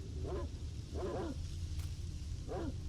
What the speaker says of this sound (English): those dogs are getting awfully close to me